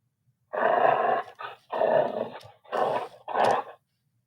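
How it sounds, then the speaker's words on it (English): Four electronic, synthetic-sounding dog barks and growls from an Ebo robot dog app, each drawn out and evenly spaced, close and fairly loud with no talking. "And then we can do dog sounds."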